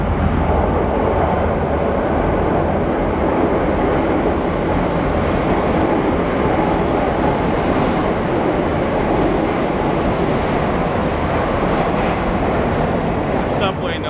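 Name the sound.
Madrid metro train passing through ghost station Anden 0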